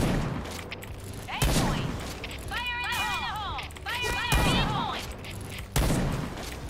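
Gunfire in the shooter game Point Blank: several sharp, loud shots punctuate the scene, with bursts of rapid fire and ringing metallic tones in between, close and mixed with other game sounds.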